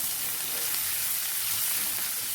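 Mixed vegetables with three green chillies sautéing in a pan for a coconut vegetable kurma, a steady close sizzle and crackle that runs unbroken and even throughout.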